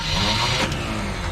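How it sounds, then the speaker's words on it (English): A hot rod car engine running loud and close, a steady rough roar with a brief surge midway, as it starts up at a gas station during a road tour. "Go ahead and start it up."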